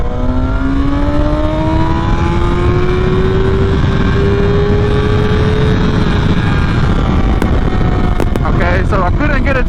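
A 2023 Kawasaki ZX-6R 636 motorcycle ridden by a new rider roars loudly and steadily, its engine pitch climbing gradually before a failed downshift attempt brings a few rough, uneven bursts near the end, heard up close with wind noise.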